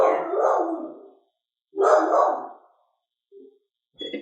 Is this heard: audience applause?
no